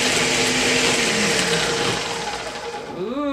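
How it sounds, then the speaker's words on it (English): A blender whirs loudly and continuously, blending a sour drink with sour Jolly Ranchers. Near the end the motor pitch sweeps as it slows. "Okay, so here's the blender, and here we go."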